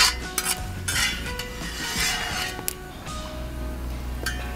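Cashew nuts sizzle in hot ghee alongside coconut pieces in a pan for an Onam payasam, with steady frying hiss, occasional stirring and clinks of a metal spoon.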